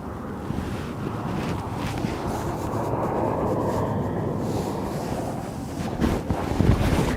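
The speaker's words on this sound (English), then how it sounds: "It's not a very nice day here. Very windy." Strong storm wind at Aberdeen Airport buffets the microphone with a constant roaring rush, gusting louder toward the end.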